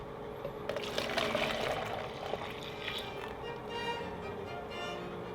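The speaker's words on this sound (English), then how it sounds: "we're just gonna dump the entire contents of the soy milk" Soy milk is poured from a pot into a container holding a gypsum slurry to make taho. The liquid makes a steady, continuous splashing stream that swells slightly near the end.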